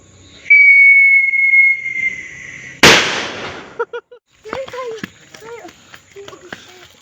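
A whistling firework at a test firing gives a long, loud shrill whistle, then a sharp close burst, followed by a few smaller pops and crackles, with voices talking afterward.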